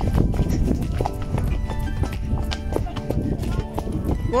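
Horse hooves clop unevenly over hard, stony ground at a walking pace, close by, while people talk over the steps.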